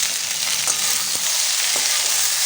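Ivy gourd sizzles in a pan with salt as it is stirred, a constant bright hiss of frying with a few soft spoon knocks, close and alone without talk.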